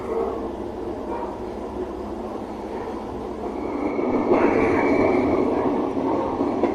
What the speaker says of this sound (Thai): รถไฟออกแล้ว